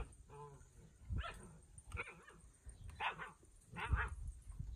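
A puppy barks and whimpers in short yips, fairly faint, with a person talking over it.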